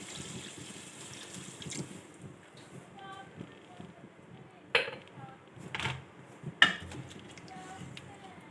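Water is poured into a pot of rice while matar pulao is being cooked: quiet trickling and dribbling with a few sharp metal clinks from the pot, and a faint voice now and then.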